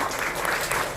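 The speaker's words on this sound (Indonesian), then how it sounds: "Tepuk tangan dulu untuk Dokter Marto." A short burst of steady audience applause for a doctor at a hospital robotic surgery center launch, lasting about a second.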